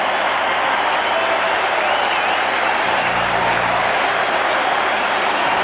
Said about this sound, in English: And you can hear the applause here at Maple Leaf Gardens for Börje Salming.